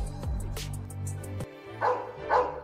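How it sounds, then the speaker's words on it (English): A dog barks several times in short, close bursts with yelping, loud and without talk over it. "our stupid neighbor's dog barks 24/7"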